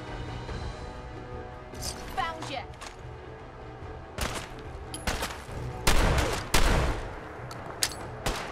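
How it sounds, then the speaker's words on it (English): Enemy gunfire in Fallout 4's Far Harbor expansion, several sharp shots and bursts in irregular volleys, loudest toward the end, over game ambience. "Shooting me in the back."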